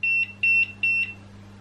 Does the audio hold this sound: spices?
no